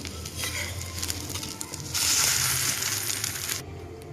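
Rava uttapam batter frying on a hot griddle, a steady sizzle that swells louder for a couple of seconds midway before settling back, close and without talk.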